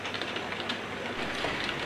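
A model train runs along its track into a station, giving a steady, continuous rolling rumble with faint ticking clatter from the wheels, heard alone and fairly close.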